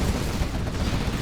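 Gatling cannon fire in a strategy video game battle, a dense, continuous rumbling barrage that holds steady at moderate loudness for the whole short stretch.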